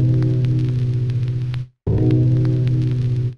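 Granular synth sample played in Reason Grain, pitched up one semitone: a sustained buzzy tone with a speckled grainy texture, stopping briefly then resuming at the higher pitch, loud and alone without speech.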